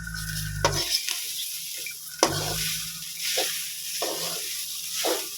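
Food being stirred in a hot pan in a home kitchen, with a steady sizzle under repeated scraping and swishing strokes of a spoon, close and fairly loud, with no talking.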